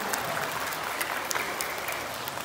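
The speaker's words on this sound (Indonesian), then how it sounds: "Berikan tepuk tangan untuk ayah bunda tercinta." Steady applause from a seated audience at an elementary school performance show in Banda Aceh, dense continuous clapping filling the hall for the whole stretch without any voices over it.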